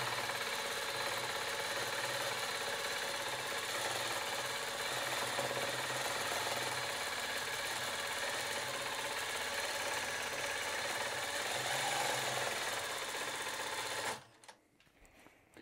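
A long arm quilting machine stitches along the seams of a fabric panel with a steady, rapid mechanical hum and needle chatter, close and continuous, then cuts off abruptly near the end with no speech.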